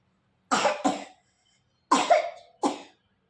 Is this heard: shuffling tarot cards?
no